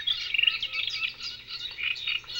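Black woodpeckers calling during mating season on Daeamsan mountain in Yanggu, Gangwon, near the DMZ: a series of sharp, high, ringing notes repeated in quick bursts, fairly close and clear with no talk.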